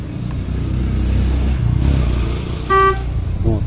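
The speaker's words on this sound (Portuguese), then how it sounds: "Vai dar duas buzinadas agora." Horn of a 2019 Chevrolet Onix sounding as a tire pressure sensor is recognized, heard as a short close honk near the end over a low idling rumble, with a second faint honk starting just after.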